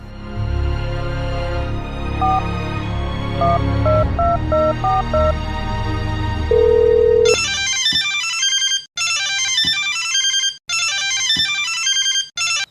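A phone ringtone plays a repeating electronic melody, then a bright trilling ring sounds in three loud bursts separated by short pauses.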